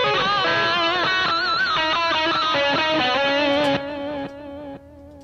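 A Marshall JCM800 electric guitar tone captured with a 57 microphone: a loud, close distorted chord rings out and then decays in steps over a few seconds.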